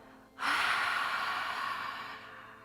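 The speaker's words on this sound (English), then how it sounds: "exhale, mouth open like you're fogging up a mirror" A single long open-mouthed exhale during a yoga breathing exercise, a soft, breathy hiss that starts abruptly, holds steady for about two seconds and slowly fades, close and alone.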